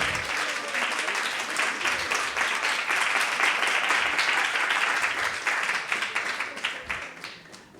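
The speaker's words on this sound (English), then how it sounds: "Big hand of applause for all of these." An audience at a Krishna Katha devotional gathering claps steadily: dense, sustained applause from many hands that fills the room and tapers slightly toward the end.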